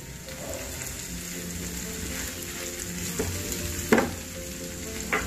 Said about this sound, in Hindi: प्याज थोड़े ट्रांसलूसेंट हो जाए तब तक पकाना है